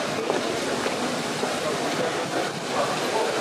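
A Manchester tram standing at a stop as passengers get off, giving a steady rumbling, hissing rail and crowd ambience with a few faint clicks and no clear speech over it.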